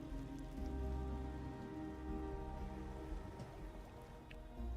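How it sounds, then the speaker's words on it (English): Steady rain falls on a surface in Ontario, a dense continuous patter with dripping drops, fairly close and even in loudness throughout, with no voices. "It's rainy here in Ontario."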